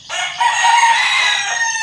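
A rooster lets out a single loud, close crow that holds for nearly two seconds, with no talk over it.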